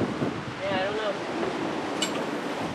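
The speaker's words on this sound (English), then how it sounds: "Ooh, a lot of wind. A lot of wind." Strong wind buffets a sailboat out on the Chesapeake Bay, a steady broadband roar with gusty swells and water wash, while a voice talks briefly over it.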